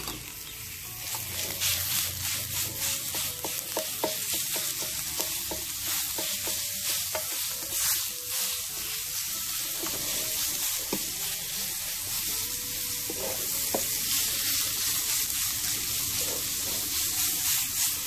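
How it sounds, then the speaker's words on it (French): Onions and minced meat frying in a pan, a steady loud sizzle with scraping and stirring clicks throughout, with no talking over it. "Je vais bien faire revenir les oignons. On va rajouter la viande hachée."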